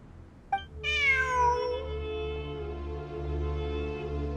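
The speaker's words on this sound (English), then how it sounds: "Look! A cat!" A video game cat lets out a single drawn-out, tonal meow that starts sharply and then fades slowly, heard alone over a steady low hum.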